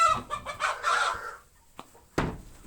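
Farm chickens cluck in a quick, close series of calls at a Thai farm, then fall quiet apart from two brief, sharp sounds near the end.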